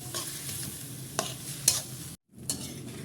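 Eggplant and chicken frying together in a pan for a home-cooked dish, with a steady low sizzle, several sharp scrapes or clacks from stirring, and a brief dropout before the frying noise resumes.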